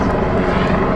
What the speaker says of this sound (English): Helicopter is about to land